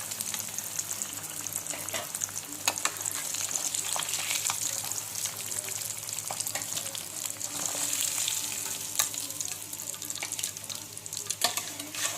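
Fish pieces frying in oil for a fish fry, a steady fine crackle and sizzle at moderate level throughout, with occasional sharper pops and spatters, close by and without talk.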